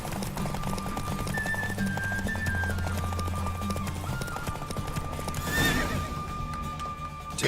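Horse in The Witcher 3 galloping with steady clip-clop hoofbeats and a loud whinny near the middle, all over continuous game music and ambience.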